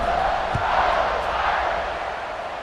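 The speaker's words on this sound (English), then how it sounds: "this crowd is feeling themselves after that last drive" A stadium crowd in the EA College Football 26 video game, at a Notre Dame versus USC rivalry game, roars in a dense, steady wash of cheering that fills the whole moment.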